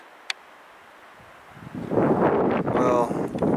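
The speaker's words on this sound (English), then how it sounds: "it's too windy too" Wind gusts on a mountain peak in Medicine Bow-Routt National Forest, Wyoming, start quiet and then buffet the microphone in loud rushing bursts, with a voice briefly audible under the noise.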